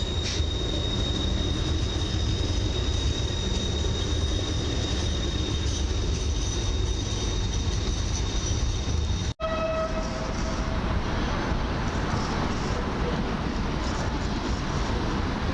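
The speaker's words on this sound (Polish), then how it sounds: "leniwie wjeżdża szybka kolej miejska w Warszawie na linii S2 z impulsem Newagiem" A Newag Impuls SKM commuter electric train rolls slowly into a Warsaw station on the S2 line at night, with a loud steady rumble and a sustained high tone, then a sharp cut to quieter tonal whine and hum.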